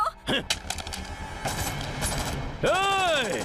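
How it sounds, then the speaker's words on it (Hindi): Bursts of gunfire crackle in quick volleys in an action movie scene, followed by a long descending whistling sweep, loud and close. "घड़ी के कांटे की तरह गोल गोल घूमकर गोलियां चला रहा है।"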